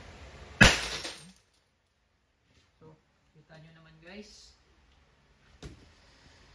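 An Umarex T4E TP50 airgun shot smashes a glass bottle: one sharp, loud crack and shatter near the start, then quieter clinks of falling shards and a few faint scattered knocks.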